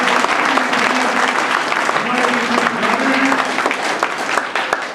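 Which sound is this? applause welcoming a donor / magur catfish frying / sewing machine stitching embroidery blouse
applause welcoming a donor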